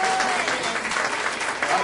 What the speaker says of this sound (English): But how about a round of applause for these guys?